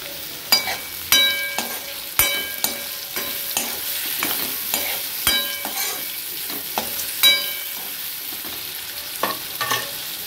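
Raw mango pieces cook in oil in a pan, a loud, bright continuous sizzle punctuated by repeated metallic scrapes and clinks of a spoon stirring against the pan, close up.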